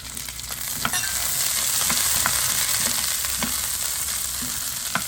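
Dried red chillies and tamarind frying in a pan for chutney, a dense, steady hiss of hot oil with a few soft stirring taps, close up and continuous.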